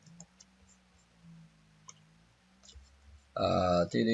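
Near the end, a sharp burst of mouse clicks follows a stretch of quiet clicks and soft background, as a computer mouse double-clicks on a calendar spreadsheet.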